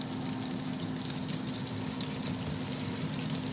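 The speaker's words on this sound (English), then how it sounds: "we're going to chuck the onions in the pan and get them going as well" Onions and corned beef hash fry in a pan over high heat, giving a steady, close, unbroken sizzle with a faint electrical hum underneath and no talking.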